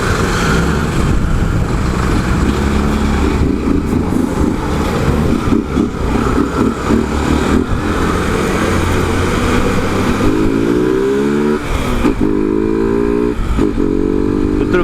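Motorcycle engine with a freshly changed aftermarket air filter and a disconnected hose, revving loudly and close up, its steady throaty roar rising in pitch near the end with repeated throttle blips.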